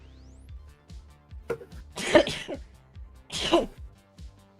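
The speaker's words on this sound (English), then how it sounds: "I feel a sneeze coming" Two sharp sneezes about a second apart, close and loud, with soft breathy sounds and quiet background noise between them.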